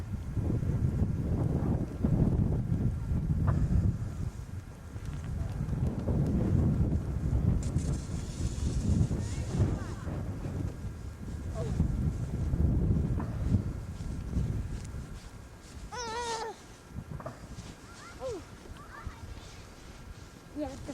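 A strong wind from a 1993 snow storm, 16 degrees with 40-mile-an-hour gusts, roars and buffets the microphone in uneven surges. Voices and a child's speech come through near the end.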